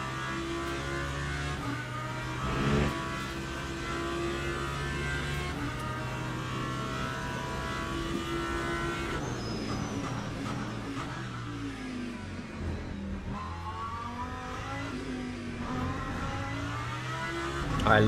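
Lamborghini race car engine in Le Mans Ultimate, revving and shifting through gears with rising and falling pitch, loud and continuous across the whole stretch with no one talking.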